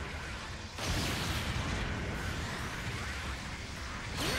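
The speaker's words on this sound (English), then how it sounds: "Got the hand grenade. This is a large explosion radius." A large hand grenade explosion from a Gundam mobile suit in Gundam Battle Operation 2, a heavy booming burst that swells after a short lead-in, rumbles on, and ends with a whooshing tail.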